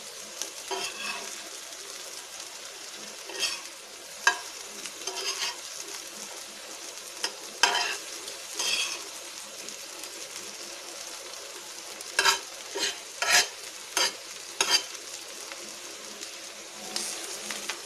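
Egg fry frying in a pan, a soft steady sizzle broken by intermittent scraping stirs and clatters of a spatula, close and moderately quiet with bursts of louder activity.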